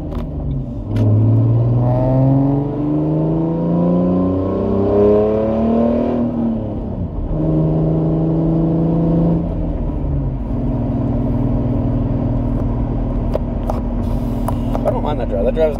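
A car driving along a straight road, its engine note climbing steadily in repeated rising sweeps as it accelerates through the gears, close and continuous, then settling into a steady cruising rumble.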